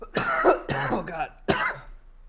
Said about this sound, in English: Oh, it hurts to cough.